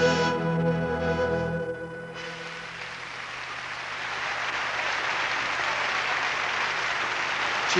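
An audience at the 1993 Sanremo selections breaks into steady applause as a sung melody fades out, the clapping swelling into a dense, even wash that holds to the end.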